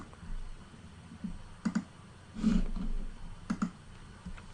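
Computer mouse clicks during a Windows software setup, faint single and double clicks spaced a second or so apart over quiet room tone, with no talk.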